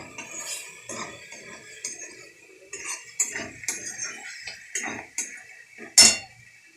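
A spatula stirs and sautés food in a metal pan, giving repeated scraping strokes and light metallic clinks with a soft sizzle, fairly close, and a sharper clank near the end.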